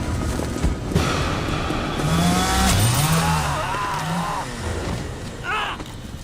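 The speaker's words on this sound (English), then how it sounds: "Leatherface catches up to Andy, and he saws his leg off right below the knee" A chainsaw roars steadily and loudly as Leatherface saws through a leg in the 2003 Texas Chainsaw Massacre film, its engine pitch rising and falling over a dense background of score and commotion.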